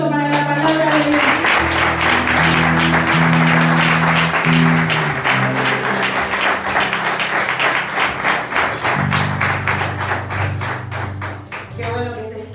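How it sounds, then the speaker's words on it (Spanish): A church congregation claps loudly during a worship service, steady applause layered over sustained organ or keyboard chords that shift pitch throughout. "les pido un fuerte aplauso para la palabra de Dios"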